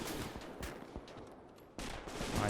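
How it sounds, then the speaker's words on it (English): Tank main gun firing amid a snowy Stalingrad battle in Gates of Hell: several sharp, distant shots and cracks of gunfire in quick succession, followed by a louder close blast near the end. "Oh, look at all the snow being kicked off the ground as that main gun fires."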